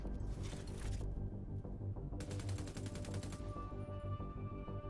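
Assault rifle fire in The Division 2 player-versus-player combat in the Dark Zone, two bursts of rapid, evenly spaced shots over a steady low game background, fairly quiet overall.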